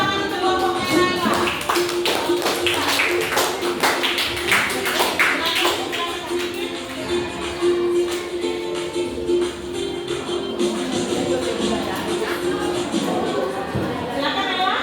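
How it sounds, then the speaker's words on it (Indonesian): A classroom breaks into applause for a presenting group, with a burst of clapping that thins into scattered claps and shuffling while children's voices chatter throughout. "Oke, tepuk tangan untuk kelompoknya Naila."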